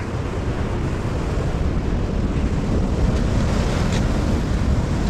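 A rough sea pounds the shore in a steady, loud roar of surf, with wind buffeting the microphone and no voices.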